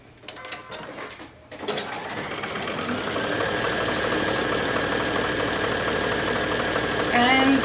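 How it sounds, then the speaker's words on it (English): A sewing machine stitches a seam around a fabric stocking boot, running as a steady, close mechanical whir that builds after a few short starts. A person speaks over it. "So I'm going to sew around here, around the boot, and then stop here at the bottom."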